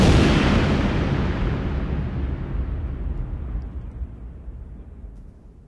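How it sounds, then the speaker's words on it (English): A shotgun blast from a film soundtrack played through a home theater system with a powered subwoofer: one heavy, booming report that decays slowly over several seconds into a low rumble. "Shotgun. The powered subwoofer will make you feel like it's going off right next to you."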